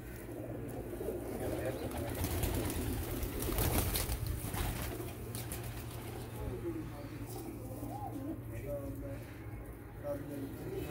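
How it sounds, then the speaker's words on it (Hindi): Golden tedi pigeons wandering about a loft coo faintly and steadily beneath a busy background, with voices talking nearby throughout. "ये आपको हम घूमते हुए कबूतर दिखा रहे हैं"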